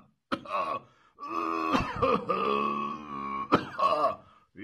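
An elderly man clears his throat and coughs: a sharp cough, then a long, strained, voiced rasping groan, followed by more short harsh coughs, close and fairly loud.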